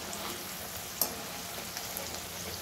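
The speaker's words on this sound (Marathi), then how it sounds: "आणि हे बघा अजून 2-3 मिनटं मी तळू देईल" Raw banana koftas frying in hot oil make a steady, faint sizzle, broken by one brief sharp crackle or pop partway through, with no voices.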